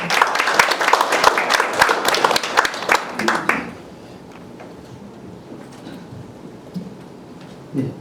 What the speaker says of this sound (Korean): 박수로 좀 합니다.